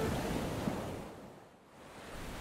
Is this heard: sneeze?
no